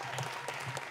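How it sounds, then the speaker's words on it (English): Audience applause at a spoken word poetry showcase, a dense steady patter of clapping lasting about a second at moderate volume. "another round of applause for Kaia."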